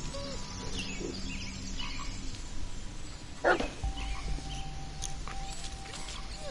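A single sharp dog bark from the Blair Witch horror video game on PS4 cuts through a dim forest ambience with faint bird chirps, one short burst midway and mid-distance.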